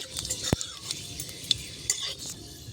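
Dried chili and panch phoron stirred in hot oil for a Bengali chalta pickle, with soft scraping clicks of a spoon against the pan and a faint, low sizzle, close and quiet, with no talking.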